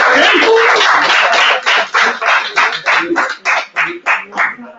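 An audience at a round-table panel event in Madrid claps after a speaker is introduced, starting as dense applause and breaking into a run of distinct, loud rhythmic claps toward the end.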